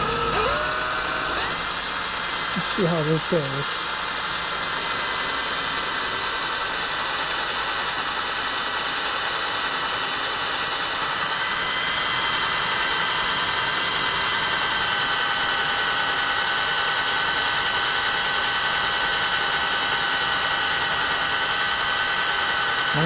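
Drill press boring holes into cast iron at slow speed, a steady high whine with faint grinding of fine chips, loud and continuous throughout; a voice speaks briefly near the start.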